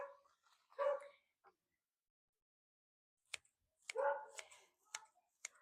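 Several faint, distant barks from a neighbor's dog, a short burst at the start, then a quiet gap, then another cluster of sharp yaps with clicking snaps near the end.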